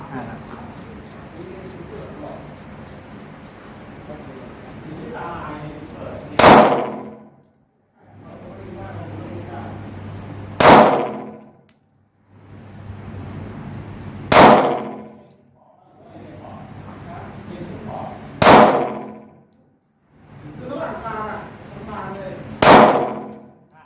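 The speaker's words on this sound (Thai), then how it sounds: "ลองดูครับ ยิง5นัดนะครับแต่ผมใส่ไปเต็มนัดนะครับ" Five Winchester 9 mm 115-grain pistol shots, fired one at a time at roughly 10 meters on a range, each a sharp loud crack spaced several seconds apart, with someone speaking between shots.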